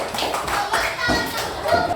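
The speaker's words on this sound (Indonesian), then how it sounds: "Tepuk tangan untuk kelompok 1" A class claps for a group of students, a brief burst of hand claps with uneven bursts and children's voices chattering over it.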